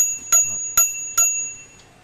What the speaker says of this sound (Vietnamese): Xe có chuông.